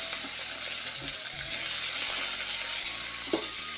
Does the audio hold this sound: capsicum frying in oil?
yes